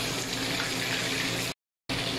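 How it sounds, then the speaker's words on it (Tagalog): Coconut milk poured into a pot of squash and string beans for ginataan gives a steady, close liquid rush with a soft sizzle, broken by a brief gap before resuming. "Sabay na natin ang gata."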